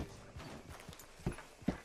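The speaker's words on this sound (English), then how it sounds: "Hitch your horse up here." Horse hooves clip-clop at a walking pace in the Red Dead Redemption 2 video game, a steady run of soft, close hoofbeats with two sharper, louder strikes near the end; no one talks.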